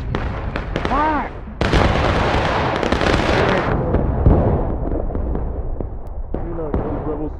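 A volley of rifles fired by soldiers in the Civil War video game War of Rights, a dense crackling burst of many shots lasting a couple of seconds, with shouted voices before and after and scattered distant shots.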